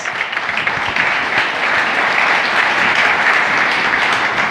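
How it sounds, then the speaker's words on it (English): At a Lenovo Transform conference in New York, a large audience applauds Erich Windmüller as he takes the stage, a loud, steady wash of clapping throughout with no speech. "Please give him a round of applause."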